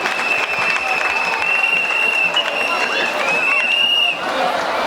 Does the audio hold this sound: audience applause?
yes